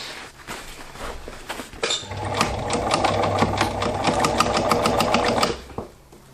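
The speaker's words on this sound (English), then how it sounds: "I prefer using the sewing machine since it is a lot faster and easier for me" A sewing machine stitching ghillie suit material runs in a fast, continuous burst of rapid needle clatter for a few seconds, with quieter handling sounds before and after.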